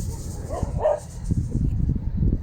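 A dog barks and yips a few times somewhere in the background, moderately faint, amid low rumbling room noise.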